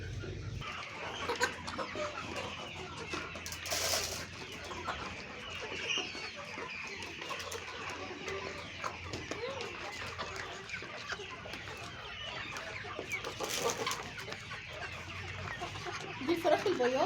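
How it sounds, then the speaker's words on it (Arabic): Laying hens cluck and murmur steadily as they eat a feed mixture, a busy chorus of soft calls and occasional louder squawks close by with faint rustling underneath. "دي الفراخ البياضه اللي انتوا شايفينها"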